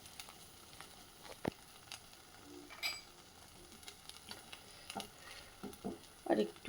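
Semolina frying in ghee is stirred in a pan with a spoon, giving quiet, irregular scrapes and taps over a faint sizzle, soft and close, with the clatter growing busier toward the end.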